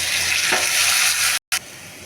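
Fish fries with ginger-garlic and ground spice paste, a loud, close, continuous sizzle that cuts out abruptly for a moment, then resumes slightly quieter.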